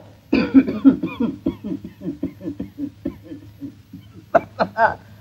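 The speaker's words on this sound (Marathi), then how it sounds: "खोकल्याची अशी उबळ येते म्हणता" A person coughs repeatedly in a long, rhythmic fit of harsh bursts, with a few sharper, louder coughs near the end.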